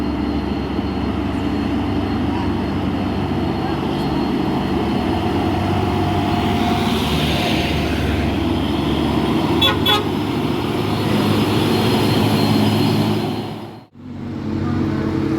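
A Hino truck grinds up a steep uphill road, its engine droning loud and continuous, with a few short horn toots midway before the noise briefly cuts out near the end.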